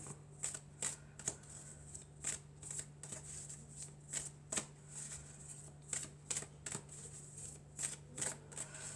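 Oracle cards of the triade deck being shuffled by hand, a steady run of soft riffling slaps and flicks, close and quiet, repeating at an even pace with no talk.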